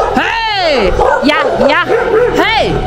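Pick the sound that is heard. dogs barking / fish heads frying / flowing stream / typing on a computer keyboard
dogs barking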